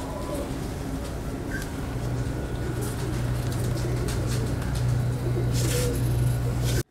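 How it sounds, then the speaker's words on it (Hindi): Breeder pigeons coo in a low, steady, continuous murmur throughout, close by, with faint background noise and a brief higher call near the start. "और ये कबूतर है"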